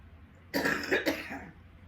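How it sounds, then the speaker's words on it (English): A single short cough from a person with a cold, close and fairly sharp, breaks a quiet background and fades within about a second. "So, coughing, it's a given."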